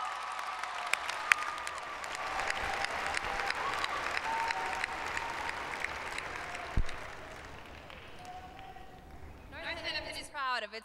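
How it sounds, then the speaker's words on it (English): Sustained applause for chamber singers fills a graduation ceremony hall at North Hennepin Community College, dense and steady, fading after about eight seconds, with voices speaking near the end. "Let's give them one more round of applause."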